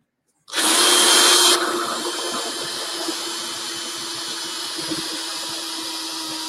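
A power drill bores holes in a wooden pencil holder, starting with a loud, high whine for about a second and then settling into a steadier, quieter drilling hum.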